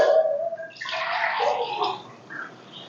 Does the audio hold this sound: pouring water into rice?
yes